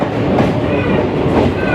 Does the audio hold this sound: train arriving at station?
yes